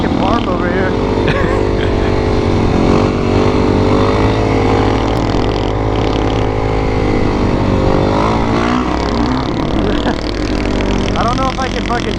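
A Harley motorcycle rides close alongside near train tracks, its engine rumbling loud and steady throughout, mixed with other engine noise while people talk over it.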